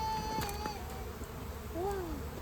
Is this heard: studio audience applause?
no